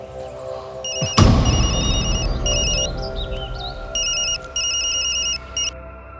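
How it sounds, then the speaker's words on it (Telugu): A phone rings on an outgoing call, repeated electronic ring bursts sounding clearly after a brief thump, set against a low steady background hum. "వాడికి ఒకసారి ఫోన్ కలపరా."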